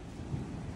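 Thunder and rain from an afternoon storm, a faint, low rumble under a steady wash of rainfall, distant and subdued, with no voices.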